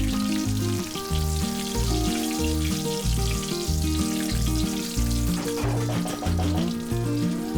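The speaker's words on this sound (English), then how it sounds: "Then add 2 teaspoons cumin seeds, 2 bay leaves, 2 green chilies, and then fry it for few seconds." Cumin seeds, bay leaves and green chilies fry in ghee with a continuous soft sizzle, partly masked by steady background music.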